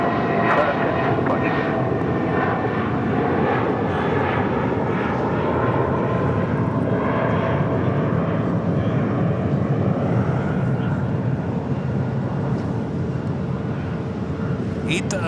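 An Airbus A320 jet in special JetBlue livery at LAX gives a steady, loud roar that holds for the whole stretch, with broadband rumble and tonal whine over the constant background of airport noise.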